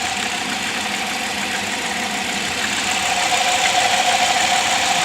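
A 3.3 liter V6 in an older car with throttle cables runs at a steady idle, a loud, continuous close-up engine drone with a light knocking texture. It grows slightly louder toward the end.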